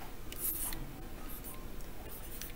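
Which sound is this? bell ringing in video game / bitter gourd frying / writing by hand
writing by hand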